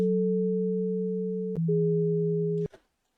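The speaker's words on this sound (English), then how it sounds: "just literally a sine wave, that's it." A pure synth sine-wave patch holds a low chord, shifts to a second sustained chord partway through, then cuts off abruptly; clean, steady tones with no other sound.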